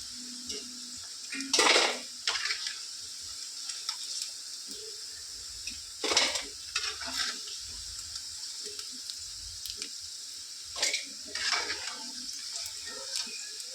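Clinks and scrapes of metal utensils against a pot and bowl as fried mutton is transferred, a few louder clatters spaced apart over quiet background hiss.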